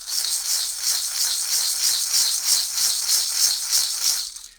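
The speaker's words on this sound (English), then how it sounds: "I may kind of spin this rattle" A rattle spun in a steady pulsing rhythm, a continuous bright hiss of beads swelling and easing for a few seconds before stopping.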